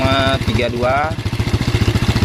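A Yamaha Jupiter Z1 motorcycle with a battery that keeps running low idles with a steady, rhythmic putter, near and loud, while someone talks over it early on.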